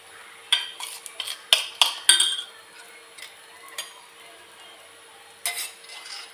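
Soaked semolina is stirred in a pan over a low gas flame, giving a few scattered scrapes and clinks of a utensil against metal with quiet gaps between them.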